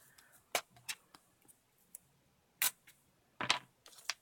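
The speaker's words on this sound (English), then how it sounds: "just trim it with scissors." Scissors snip through washi tape in a few sharp, quiet cuts, spaced irregularly with soft rustling of tape and paper between them in a quiet room.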